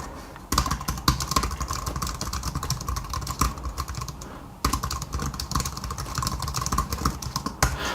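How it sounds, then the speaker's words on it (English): Fast, close typing on a Jelly Comb ultra slim wireless keyboard, crisp low-profile key clicks in a steady stream with one brief pause midway. "let me type something on this quickly."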